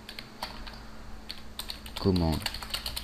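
Soft, quiet keystrokes on a computer keyboard as a Google search is typed, scattered clicks over a low hum with a brief tonal murmur partway through.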